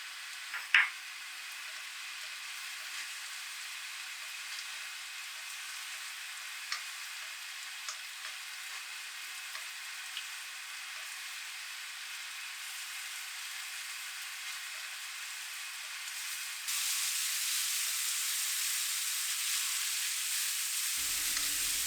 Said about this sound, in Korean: 간마늘 4큰술을 넣어요.